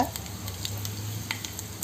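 A steady, quiet sizzle of spice tempering frying in oil in a pan for a tamarind-leaf dal, with faint scattered crackles and a low background hum.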